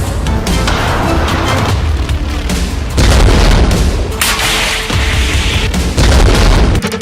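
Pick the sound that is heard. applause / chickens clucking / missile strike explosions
missile strike explosions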